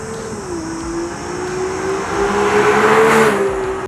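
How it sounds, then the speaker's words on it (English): A Ferrari 296 GTB with its V6 hybrid engine at the rear, heard as one loud, sustained exhaust drone that holds a steady pitch, dips briefly, then rises in revs and volume toward the end, with no talking. "Now it's time to listen to that brilliant track, that brilliant motor at the back."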